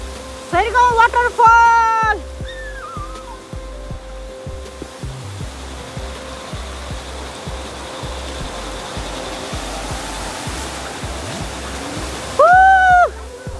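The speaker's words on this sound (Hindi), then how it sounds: "ये है सरगम वाटरफॉल" Sargam waterfall in Shergaon, West Kameng, Arunachal Pradesh, gives a steady, broad roar of rushing water throughout, with voices briefly heard over it near the start and the end.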